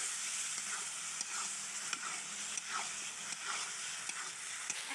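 Taki fish frying in spiced oil in a village-style kitchen for a radish and eggplant curry, giving a steady bright sizzle with faint stirring scrapes and no talking.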